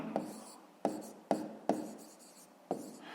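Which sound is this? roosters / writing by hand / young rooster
writing by hand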